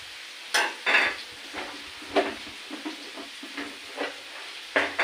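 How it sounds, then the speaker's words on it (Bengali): Potatoes and onions fry in a pan with a soft sizzle, broken by repeated scraping stirs of a spatula at irregular intervals, close and moderately loud, with no voices. "আলুটা পেঁয়াজের মধ্যে দিয়ে কষিয়ে নেব, দিয়ে মশলা টসা দিয়ে আলু পেঁয়াজও ভাজা হবে"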